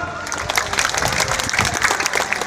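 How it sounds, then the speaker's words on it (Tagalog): A large crowd at a political anniversary rally breaks into loud, sustained applause, a dense continuous clatter of many hands clapping with crowd noise underneath. "Kuskig palakpak."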